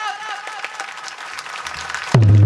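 Clapping rises from an audience at a comic kirtan in a brief, dense burst of many hands, then a loud low tonal sound cuts in at the end.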